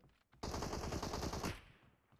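Automatic gunfire in the PUBG Mobile video game: one loud, rapid burst of about a dozen shots fired up close over roughly a second, then a quick fade.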